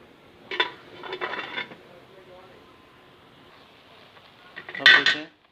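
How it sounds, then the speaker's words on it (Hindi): A metal lid clanks onto a pot of green pea pulao rice as it is set to steam, with a short clatter of cookware, a pause, then a louder rattle near the end. "अभी इसको लगा देंगे ढक्कन"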